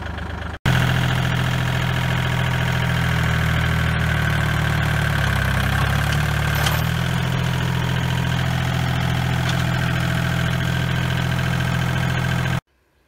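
A tractor with a front loader, used for skidding logs, idles in a continuous low, even rumble close by. It starts after a brief silence, runs steadily for about twelve seconds, then cuts off, with no voices.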